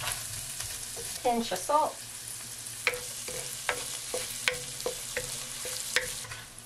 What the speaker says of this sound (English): let's start building the sauce with the onion. I'm gonna go ahead and add the celery too, because I want those to dissolve.